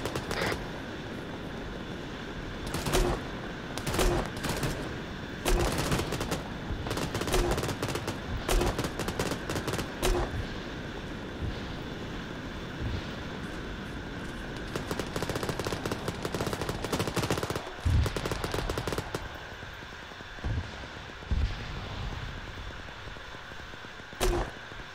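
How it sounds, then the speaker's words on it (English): Machine gun suppressive fire in the military shooter game Squad, with repeated bursts of rapid automatic gunfire over a constant battlefield rumble, loud and close, and heavier reports in the background. "MG, moving up to firing position, gonna start laying down suppressant."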